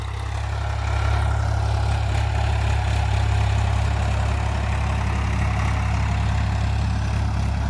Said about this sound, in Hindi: ट्रैक्टर चला रखा 1400 RPM पे भाइयों।